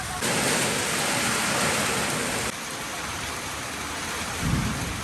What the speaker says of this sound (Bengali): বৃষ্টি থামবে বলে তো মনে হচ্ছে না